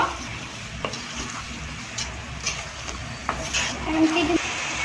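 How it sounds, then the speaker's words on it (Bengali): Onion paste and spices are being sautéed in a pan with a low, steady sizzle, interrupted by scattered scraping stirs and soft utensil knocks, while quiet background voices and a brief bleat-like sound come and go. "তো আমি পেঁয়াজটা মশলাটা কষিয়ে নিয়েছি হালকা"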